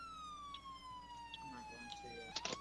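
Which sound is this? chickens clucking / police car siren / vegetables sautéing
police car siren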